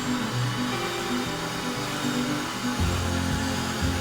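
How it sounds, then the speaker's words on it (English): A steady, loud motor whine from a shop vacuum, running continuously with a shift in pitch partway through. "This is a regular shop vac we're using"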